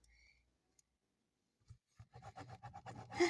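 A ballpoint pen scratches across paper in quick, close strokes that start after a quiet pause, faint at first and building into steady short scribbles.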